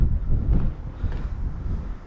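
Heavy wind at a cliff edge at Inkerman buffets the microphone with deep, rumbling gusts, strongest at the start and then easing into a steady roar.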